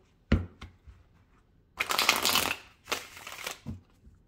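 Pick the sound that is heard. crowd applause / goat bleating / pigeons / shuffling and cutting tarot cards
shuffling and cutting tarot cards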